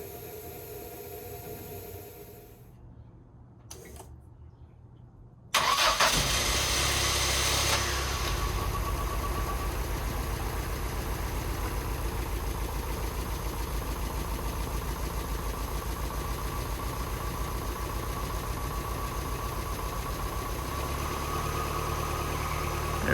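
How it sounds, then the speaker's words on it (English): A Lotus Esprit with CIS fuel injection, a new coil, battery and warm-up regulator fires up after some quiet clicking, then settles into a steady, smooth idle of about 1250 RPM that hums on close and unbroken. "that is a smooth idle, right about 1250 RPM"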